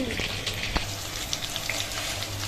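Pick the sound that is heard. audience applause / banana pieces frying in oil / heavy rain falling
banana pieces frying in oil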